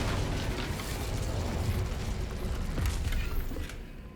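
A fire spell cast in Hogwarts Legacy: a steady roaring, crackling rush of flame with rumbling bursts, loud and continuous for about four seconds before easing off at the end.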